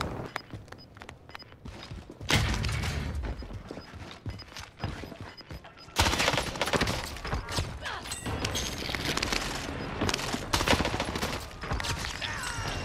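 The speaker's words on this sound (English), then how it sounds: "I'm shooting him so many times" Rapid bursts of automatic gunfire from a console shooter game rattle almost without pause, loud and dense, jumping in intensity partway through, with no talk over it.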